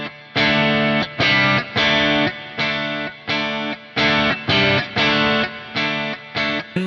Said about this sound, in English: So for instance, this is a 12 dB boost.